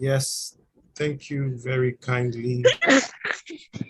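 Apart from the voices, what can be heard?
sneeze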